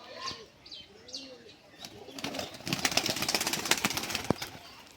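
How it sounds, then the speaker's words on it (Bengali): A low-flying display pigeon gives a few coos, then takes off into a burst of rapid wing flapping that sounds close and gets louder toward the end. "উজ্জ্বলদা ছেড়ে দেখাচ্ছে, দেখি যদি খেলে পায়রাটা।"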